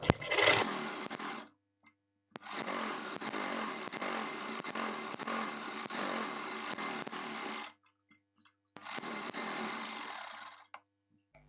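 A sewing machine stitches a sleeve in three runs of steady rapid whirring, a short burst, a long stretch and a final one, broken by quiet pauses with small handling clicks.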